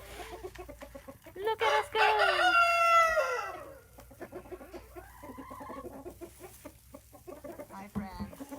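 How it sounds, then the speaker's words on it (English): Hens clucking and a rooster crowing loudly near the microphone, with varied calls and squawks continuing afterward; a person talks briefly in between. "Chickens make a lot of different noises"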